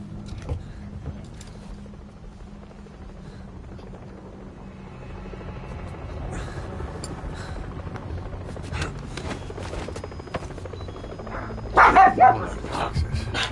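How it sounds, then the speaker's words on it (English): Dogs bark outdoors, heard through an open window as faint, scattered yaps under a steady background hum, with a louder burst of barking near the end. "Sorry about the barking."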